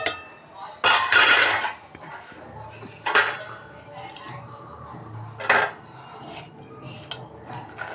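Vegetables for vegetable biryani are mixed in a bowl, giving several sharp clattering and scraping bursts of utensils against the dish, separated by quieter pauses and faint background sound.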